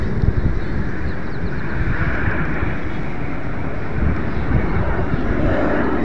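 Blue Angels jets fly somewhere near the Golden Gate Bridge, a loud, continuous low roar of jet engines mixed with wind buffeting the microphone, with no talk.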